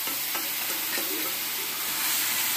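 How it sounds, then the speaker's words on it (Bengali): White mustard paste frying in oil for a fish curry, a loud, steady, hissing sizzle with faint stirring scrapes, close and uninterrupted. "ভাজি ল'ম ৰঙা কৰি।"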